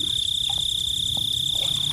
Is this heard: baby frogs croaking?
yes